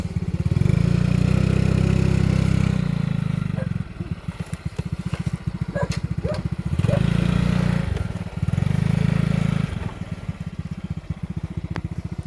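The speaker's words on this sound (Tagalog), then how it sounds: "Kaninong motor yan?" A motorcycle engine runs close by, alternating between a steady low rumble and a choppy, rapidly pulsing idle with faint clatter.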